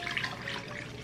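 One cup of chili soaking water from guajillo chilies poured into a blender: a brief, close, continuous splashing trickle with no talking.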